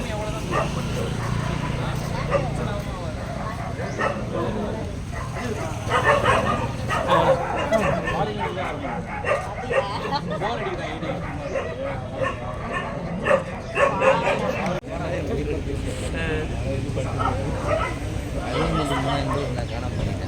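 Many dogs bark, yip and whimper almost nonstop at a crowded rabies vaccination camp in Vellore, loud and near, with people chattering and talking beneath the din.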